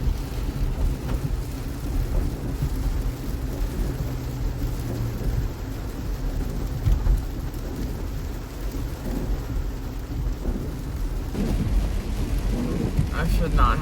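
Thunderstorm with steady heavy rain hissing continuously, deep rolling thunder rumbling underneath throughout, loud and enveloping with no voices.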